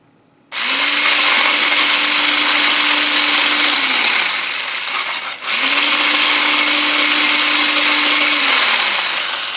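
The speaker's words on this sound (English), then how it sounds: "I'm just going to whisk it really quick" An electric whisk or hand mixer whirs loudly and steadily while beating eggs for coconut egg idli, running in two long bursts with a brief pause between, its motor pitch dropping as each burst winds down.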